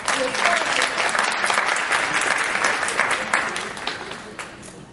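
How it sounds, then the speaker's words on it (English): Audience applause for Deb Strong at a launch event, a steady crowd clapping with no break, fairly loud and close, easing off slightly toward the end. "all of us who work with Deb, let's give her a round of applause"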